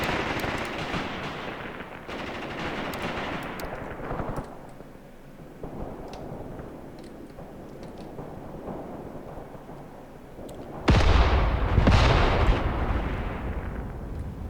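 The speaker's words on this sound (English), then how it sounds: "Drop a mortar strike." Mortar strikes in the Graviteam Tactics war game land as a series of heavy booming explosions. Long rumbling decays follow each blast, and a loud impact near the end is followed by more rolling thunder-like rumble.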